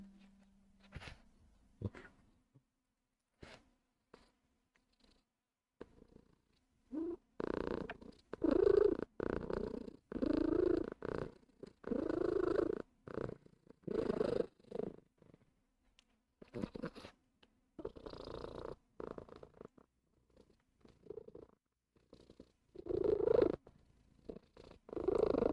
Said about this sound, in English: Hear the purring.